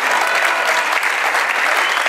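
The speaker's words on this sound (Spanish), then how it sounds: "Un aplauso para mi compañero" A large crowd at an ejido centennial ceremony in Mexico gives loud, dense, continuous applause honoring a former leader, an even roar of clapping throughout.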